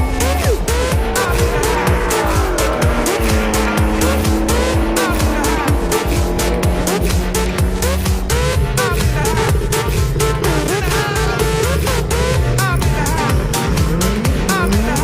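Ford Mustang GT racing a Renault Super 5 GT Turbo: loud, continuous engine noise with rapid gear changes and tire squeal, mixed with a busy background, close and dense throughout.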